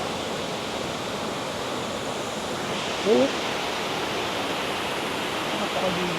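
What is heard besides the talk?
small waterfall and clear flowing water at Bukal Falls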